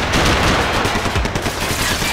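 Dense, continuous gunfire in the action game Max Payne 3, rapid overlapping bursts like several automatic weapons firing at once, loud and close throughout.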